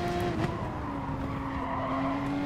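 A race car in Gran Turismo Sport skids off the track on worn tyres, a sustained tonal tyre squeal under engine drone, fairly faint.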